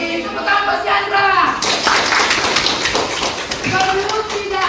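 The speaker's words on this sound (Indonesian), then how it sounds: "Tepuk tangan buat si Andra." Classroom clapping for a student, a burst of children's applause breaking in after a teacher's voice, loud and close, fading as talk resumes.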